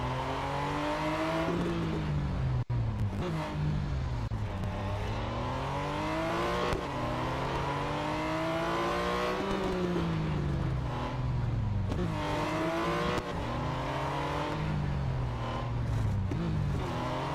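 McLaren Speedtail hypercar engine racing in the mobile game Real Racing 3, a loud continuous roar rising and falling through repeated upshifts and revs, with a brief sharp knock early on and no talking.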